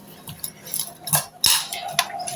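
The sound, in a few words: spoon mixing salt into bitter gourd coconut chili powder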